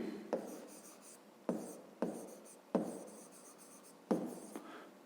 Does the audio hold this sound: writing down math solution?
yes